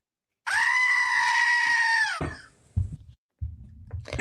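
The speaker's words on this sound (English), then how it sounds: "Where's that goat screaming?" A goat lets out one loud, long, wavering scream lasting over a second and a half, close by, followed by a few shorter rough bleats and rustling.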